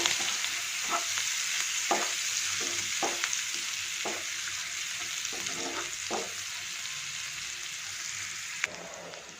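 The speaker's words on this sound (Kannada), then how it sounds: "ಈಗ ಇದಕ್ಕೆ ಸಣ್ಣದಾಗಿ ಕಟ್ ಮಾಡ್ಕೊಂಡಿರೋ ಒಂದು ಈರುಳ್ಳಿನ ಸೇರಿಸ್ತಾ ಇದ್ದೀನಿ ಸಣ್ಣ ಕಟ್ ಮಾಡಿಕೊಂಡ್ರೆ ಚೆನ್ನಾಗಿರುತ್ತೆ ಇದೊಂದು ಸ್ವಲ್ಪ ಕೆಂಪಗೆ ಫ್ರೈ ಆಗಬೇಕು" Finely chopped onion frying in a pan for a restaurant-style gravy, a steady sizzle with occasional scrapes of a spoon stirring, close and continuous with no voices.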